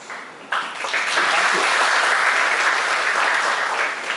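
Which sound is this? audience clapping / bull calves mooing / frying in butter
audience clapping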